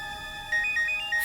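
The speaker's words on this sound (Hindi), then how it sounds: "उसी का फोन है।" A phone ringtone chimes in short repeated electronic tones, fairly quiet and alone with no talk.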